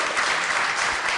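An audience at a U.S. House congressional district debate claps in a short, dense burst of applause, loud and steady for about a second with no talk over it.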